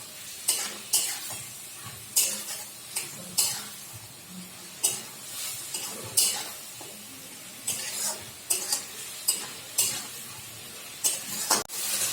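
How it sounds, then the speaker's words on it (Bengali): Spice masala being sautéed in oil with water added, stirred in a pan for a shrimp and yogurt curry: repeated loud scraping strokes over a steady sizzle, close and with no voices. "এরকম মশলা কষানো হয়ে গেছে এই যে তেল বেরোচ্ছে"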